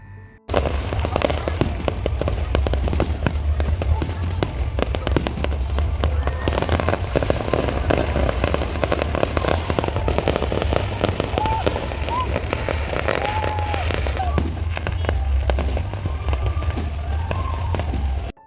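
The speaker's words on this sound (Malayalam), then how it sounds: "8 മണിക്കാണ് ഫയർ വർക്ക്സ് സ്റ്റാർട്ട് ചെയ്യുന്നത്" Fireworks display at an Eid al-Fitr celebration, heard from a roadside as a dense, continuous barrage of crackles and pops over low rumbling, with a loud, steady crowd-like wash throughout and voices mixed in.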